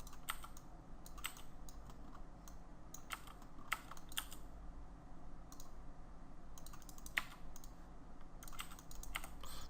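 Computer keyboard keys pressed for hotkeys during 3D modeling, faint scattered clicks and short clusters of taps at an irregular pace over a quiet background.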